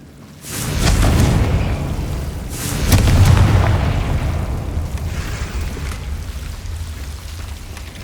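Confringo spell explosions in the video game Hogwarts Legacy: two loud, deep booms, one early and another about two seconds later, each swelling into a long rumbling roar that slowly fades, with no voices.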